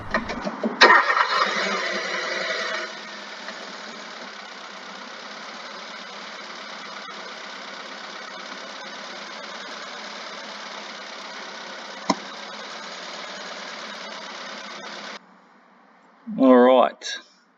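A Hyundai i20 engine with a spark plug removed cranks and catches, then settles into a steady, uneven idle that runs for many seconds before cutting off abruptly, followed by a brief burst of a voice.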